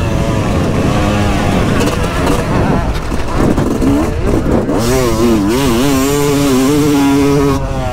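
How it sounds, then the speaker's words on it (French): A motorcycle accelerates hard on a race circuit, the engine loud and close with rising, wavering revs and gear changes, and a voice talking over it. "on peut mettre du gaz. La moto elle respire bien."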